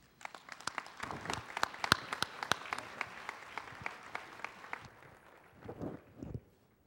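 An audience claps to welcome Professor Wendell Cox as he comes up to speak, a modest round of applause from a smallish room with sharp individual claps that thin out and fade after about five seconds.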